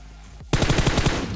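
Rapid automatic gunfire in the PUBG Mobile video game bursts in abruptly after a quiet moment, a loud close volley of evenly spaced shots lasting about a second.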